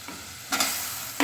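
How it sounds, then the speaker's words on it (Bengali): Potatoes frying with spices in hot oil as they are stirred, giving a steady close sizzle with two louder bursts of scraping and spatter, no voices. "মশলাটা ভাজা ভাজা হবে মশলাটার সাথে আমি আলুটা দিয়ে দিচ্ছি"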